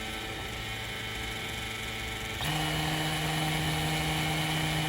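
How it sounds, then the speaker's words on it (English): A variable-speed rotary tool, more powerful than a Dremel, whirs with a steady high-pitched whine, then shifts up to a louder, higher speed midway and holds there. "So I like how there's a lot of different speeds on this thing."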